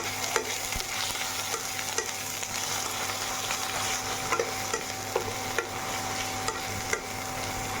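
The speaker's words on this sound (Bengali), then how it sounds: "পেঁয়াজের পেস্ট ভাজা হয়ে গেছে। এবার হলুদ দিয়ে দিলাম 1 চামচ" Onion paste with turmeric frying in a pan while being stirred: a steady, close sizzle with light scraping clicks from the spoon recurring every second or so, no voices.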